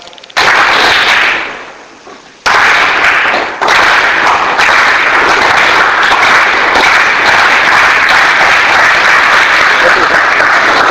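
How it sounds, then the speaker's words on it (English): A teacher-training class claps on cue, producing loud, sharp bursts of clapping with a brief pause and a fading stretch before steady, sustained clapping resumes. "You can just clap only once"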